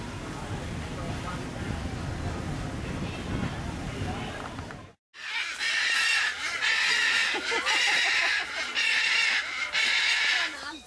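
Chickens roaming a Caribbean island cluck in repeated short bursts, loud and close, after a stretch where people talk over windy outdoor noise.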